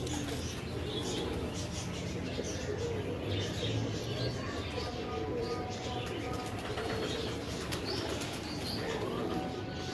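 Pigeons flap their wings in flight, a busy flutter of wingbeats with some cooing and chirps, steady throughout over background murmur.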